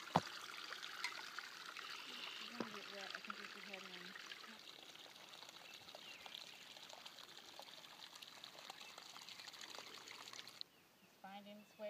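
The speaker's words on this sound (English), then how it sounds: "Water's still flowing out of the meadow." Water flows steadily out of a meadow toward constructed ponds, a soft continuous trickle heard outdoors at a quiet level. It stops abruptly near the end.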